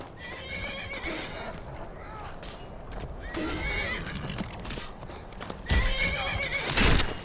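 In the video game Skyrim, a horse whinnies several times and its hooves clip-clop close by, the calls rising above a talking voice, with a louder neigh near the end.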